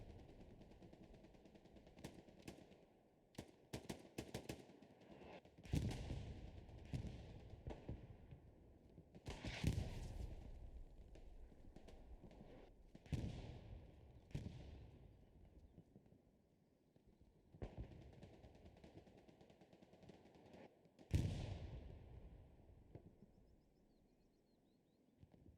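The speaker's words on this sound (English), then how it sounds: "Looks like TL artillery doing the work." Artillery fire in the World War II shooter Hell Let Loose: sharp cracks and distant booms arrive in irregular bursts over a quiet, steady background hum, some shots close and loud, others faint.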